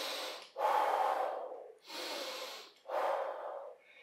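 Slow, deep breathing during a beginner stretching workout, three long airy exhalations close to the mic, each separated by a brief quiet pause.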